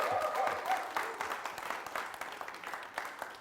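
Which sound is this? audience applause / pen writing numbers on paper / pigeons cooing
audience applause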